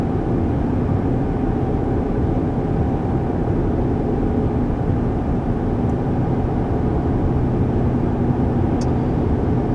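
Steady broadband road and wind noise inside a 2021 Chevy Colorado cabin cruising on the highway at about 55 mph, a constant even rumble with no talk.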